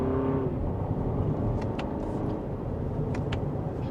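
A 2025 Lexus NX350 Premium pulls hard from second gear in sport mode, its engine drone loud and steady throughout with road rumble underneath, heard from inside the cabin.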